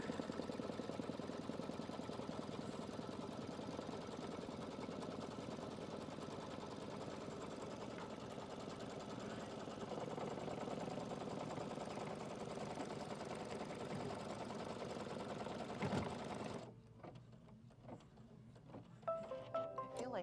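An embroidery machine sewing a quilting stitch in the hoop hums steadily and faintly for most of the stretch, then cuts off, leaving quieter room sounds and small clicks.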